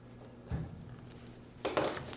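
Scissors cut a star shape out of decorative paper for traditional Christmas ornaments, giving two brief, crisp snips with a faint metallic edge in an otherwise quiet room.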